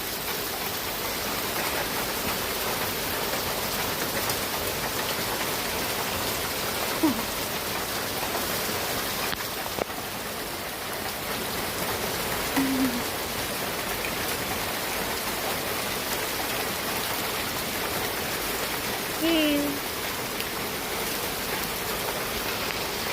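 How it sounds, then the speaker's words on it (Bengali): Heavy rain pours steadily onto a courtyard, a dense, even hiss that never lets up, with a few faint knocks and splashes standing out briefly against the downpour. "কি পরিমাণ বৃষ্টি হচ্ছে"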